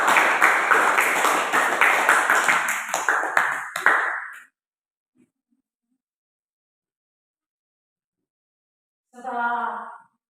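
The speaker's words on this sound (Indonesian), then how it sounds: "Kita berikan aplaus kepada mereka." Applause for a group presentation in a classroom: several seconds of dense clapping from a group, fading out, then silence and a short final clatter.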